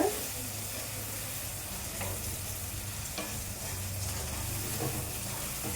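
A steady sizzle of onions frying in a pan, with occasional soft stirring scrapes, constant hiss throughout and no talking.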